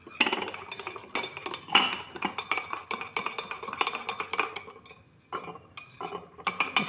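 A spoon stirs milk and coffee in a cup for a cappuccino, clinking steadily against the sides in quick, continuous rhythmic strokes with a brief pause near the end, close and clear with no talking.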